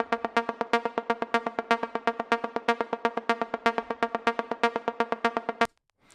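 An Afro House synth sequence, a fast steady pulse of short plucked synth notes repeating evenly for several seconds, heard alone and moderately loud before stopping abruptly.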